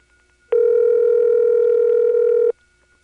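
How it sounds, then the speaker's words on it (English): A single two-second ringback tone on a long wire trunk into a 1978 Siemens motor switch exchange in Ocala-Silver Springs, Florida, a steady buzzy tone that starts and stops abruptly against quiet line hiss. "236 has direct trunks to this office, and those are on what sounds like a long wire trunk. So it ends up sounding like this."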